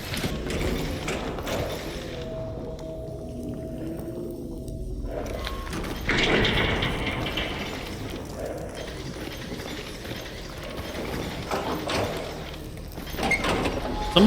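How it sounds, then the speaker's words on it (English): A door opens and closes in the video game Stalker Anthology, with mechanical sliding and clunking sounds over a steady ambient hum, several soft thuds spread across the stretch. "Sounds like the door is supposed to be opening and closing"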